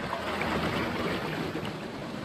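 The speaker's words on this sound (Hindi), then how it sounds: "एंड बोलते बोलते दूसरा वाटरफॉल्स भी आ गया।" A waterfall along the Kedarnath trek gives a steady broadband rush of falling water with some wind noise on the microphone, continuous and fairly close, with no talking.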